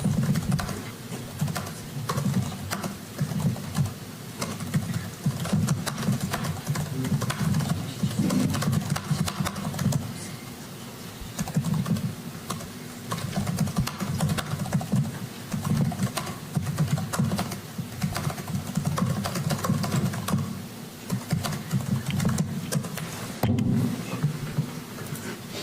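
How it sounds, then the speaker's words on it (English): Rapid continuous typing on an illuminated computer keyboard recorded up close, a steady stream of light clicky keystrokes with no talking. "I'll put the mic near the keyboard so you can hear keyboard sounds"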